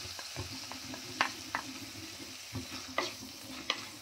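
Onions frying in a pan for restaurant-style paneer bhurji, a soft steady sizzle broken by several sharp scraping stirs of a spoon against the pan, fairly close and alone without talk.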